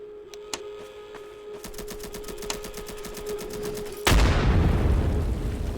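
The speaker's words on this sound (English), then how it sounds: "I'm currently getting shot at from a sniper" Sniper gunfire in a multiplayer video game, a run of sharp rapid cracks and ticks over a quiet background, then a sudden louder burst of dense noise in the last seconds.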